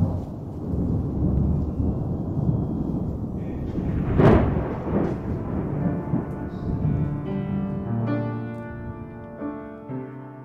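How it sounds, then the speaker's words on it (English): Thunder rolls and echoes off a river canyon during a New Mexico monsoon, a long low rumble with a sharp crack near the middle that fades into a sustained reverberant tail, loud and alone. "Thunder echoes off the river canyon and resonates inside the adobe chapel where the brothers gather for prayer"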